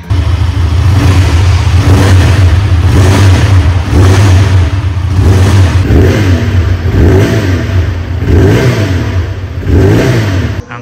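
QJMotor SRK 554, a liquid-cooled parallel twin motorcycle with a 270-degree firing order, its engine rumbling loud and close with a series of rhythmic rev swells over a steady throb.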